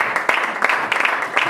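A church congregation claps in praise during a service, a brief burst of rhythmic, fairly close clapping with voices mingled underneath.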